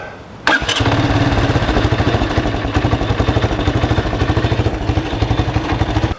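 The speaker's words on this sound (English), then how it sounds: "Still backfires through the exhaust a little bit." A 1985 Honda ATC200M three-wheeler snaps to life and settles into a loud, steady, rapid idle close by, with faint pops and backfires through the exhaust punctuating the even thrum.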